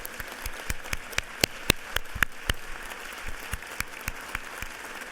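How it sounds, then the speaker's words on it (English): Scattered applause from members in a state House chamber during a legislative session, honoring a guest, with sharp individual claps over a quiet room, fairly sparse and steady rather than a full roaring ovation. "I'd like to give a round of applause in honoring and celebrating Amir."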